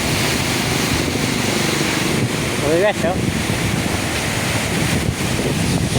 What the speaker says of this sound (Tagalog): Lalaki ng alon dito guys sa Gumaka, sa Atimunan.